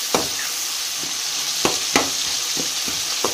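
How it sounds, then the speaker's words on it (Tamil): Tomatoes and curry leaves sautéing in a pan for garlic pepper gravy, a constant soft sizzle broken by several sharp spoon scrapes and taps. "இதில் நல்லா வணங்கணும், தக்காளியெலாம் நல்லா வணங்கணும்."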